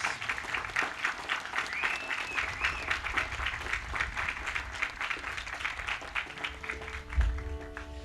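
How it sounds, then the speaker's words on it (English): A crowd applauds steadily at a Memorial Day event, sustained clapping from many hands over several seconds with faint background noise and no speech. "So let's give them a nice, big round of applause."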